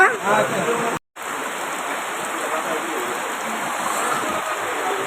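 Steady rain falls at a riverside market, a dense continuous hiss with a brief dropout near the start and no clear talk over it.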